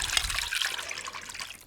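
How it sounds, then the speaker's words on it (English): Liquid brine poured steadily into a bowl over pork chops, a close continuous splashing trickle that tapers slightly toward the end. "we're going to pour all this in"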